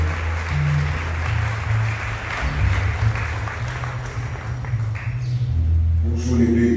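A church congregation at a Sunday worship service applauding for the pastor, scattered clapping under a sustained low musical drone, with a voice entering near the end.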